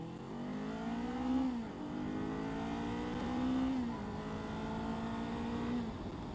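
A Kawasaki Ninja 400 motorcycle engine rises through revs in three successive pulls with shifts in between, heard steadily from the rider's position with no talking.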